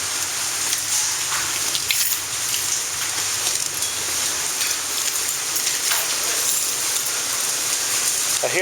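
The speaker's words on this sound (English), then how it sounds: "I hear hail." Hail falls during a thunderstorm in Dallas, Texas, a dense, steady patter that stays loud and continuous throughout with no breaks.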